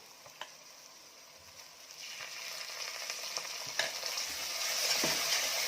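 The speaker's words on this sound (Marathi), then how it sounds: "आलं लसूण पेस्ट टाकल्यानंतर जे आपण खोबऱ्याची पेस्ट करून घेतलेली, म्हणजे खोबरं वाटून घेतलेलं आहे, ते घालायचं आहे." Ground roasted coconut paste stirred into a sizzling pan of mutton masala with ginger-garlic paste, a steady frying hiss that swells louder, with a few sharp clinks of a spoon against the pan.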